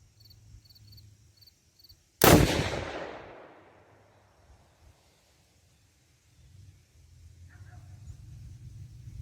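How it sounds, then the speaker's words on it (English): A single sharp, loud crack from a Mossberg Patriot Predator rifle fired off front and rear bags outdoors, decaying into a long echoing tail, with faint chirping insects and a low rumble before and after. "All right, first shot."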